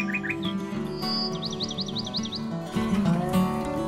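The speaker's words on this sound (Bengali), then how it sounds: "চারিদিকে এত পাখির শব্দ, কান পাতলেই শোনা যাচ্ছে।" Several birds chirp and trill in quick, bright bursts, fairly close, near a bird park aviary in Pelling, over a hum of background noise.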